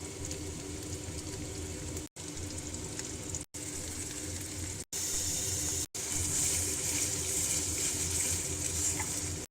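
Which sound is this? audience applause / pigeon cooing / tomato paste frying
tomato paste frying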